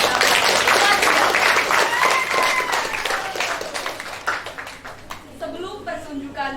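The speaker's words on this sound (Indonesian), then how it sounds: "Mari kita beri tepuk tangan sekali lagi yang meriah untuk penampilan." Applause from a school audience after a poetry performance at a student drama show, a busy rattle of many hands that is strongest at first and then tapers, with voices and whistle-like tones rising over it toward the end.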